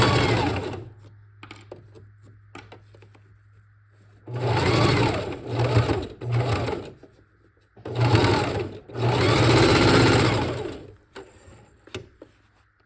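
A sewing machine stitches the seam of a fabric book cover in several loud, close bursts of rapid motor whirring, separated by short pauses and quieter stretches.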